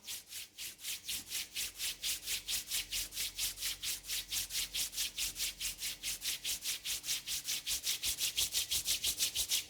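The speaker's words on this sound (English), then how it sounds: "Rub your both palm." Two palms rub together in fast, even back-and-forth strokes during a yoga session, a close, dry swishing rhythm of about three to four strokes per second, steady and slightly louder toward the end.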